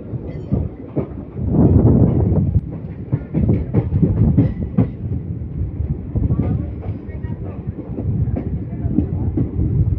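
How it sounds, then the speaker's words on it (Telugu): The Simhadri Express rolls onto the Rajahmundry road-cum-rail bridge after a long turn, with loud rhythmic wheel clatter and rumbling over wind buffeting the microphone. "మన ట్రైన్ ఇప్పుడు ఒక లాంగ్ టర్న్ తీసుకొని అయితే రోడ్ కమ్ రైల్వే బ్రిడ్జ్లోకి అయితే ఎంటర్ అయిపోతుంది."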